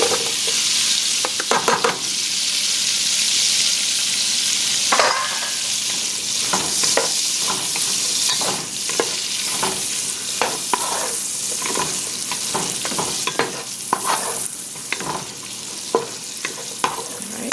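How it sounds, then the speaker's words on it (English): Onions frying and sizzling in a pot for Vietnamese chicken ragu, a steady loud hiss with repeated stirring scrapes and clicks throughout, no talking. "let me throw the onions in"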